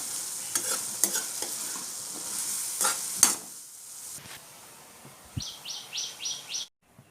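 Turkey berries (sundakkai) sautéing in oil for poriyal, a steady crackling sizzle with scattered stirring clicks and scrapes; a brief, faint string of high chirps comes in near the end before the sound cuts off.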